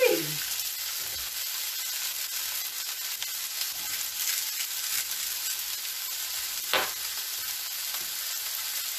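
Peppers, onions and bok choy frying in a pan, a loud, even hiss of sizzling oil that holds steady for the whole stretch with faint stirring sounds.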